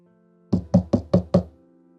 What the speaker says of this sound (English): I knocked on the president's office door with a sliver of hope